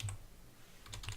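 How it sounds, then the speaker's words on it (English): A word typed into a Microsoft Excel spreadsheet cell on a computer keyboard: quick, quiet clusters of key clicks at the start and end with a short pause between. "if I was just to type in anything into a cell, such as, I'll type in the word text"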